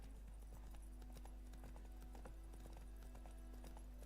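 Roach the horse trots along in The Witcher 3, hooves clip-clopping in a steady, quick rhythm at close range over a low constant hum, with no talk.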